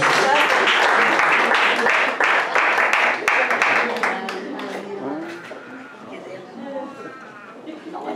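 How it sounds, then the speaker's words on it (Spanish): Church congregation clapping and applauding for the Lord during a service, dense applause that is loud at first and then thins out, with voices talking and calling out over it. "Dale palmas al Señor"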